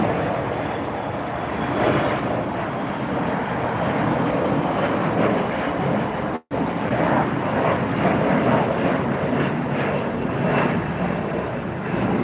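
An airplane coming in to land at LAX roars steadily at moderate distance, a broad, continuous jet rumble that holds for about twelve seconds with a momentary dropout midway and no talking.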